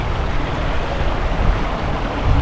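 A river at a riverside campsite in Salacay rushes in a steady, broadband wash of flowing water that stays even and continuous throughout, with no voices present.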